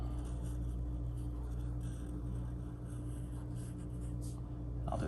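A marker draws a squiggly line across paper for an Earth Day craft, a soft continuous scratchy scrawl close by over a steady low background hum.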